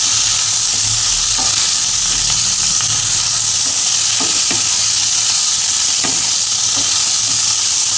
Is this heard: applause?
no